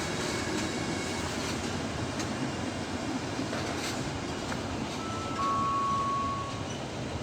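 A train rolls steadily through the station at Grisignano di Zocco, Italy, with a constant rumble and faint wheel squeal, holding an even loudness throughout.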